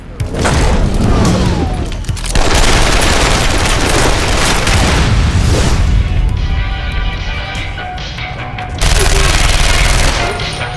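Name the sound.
machine gun fire in a film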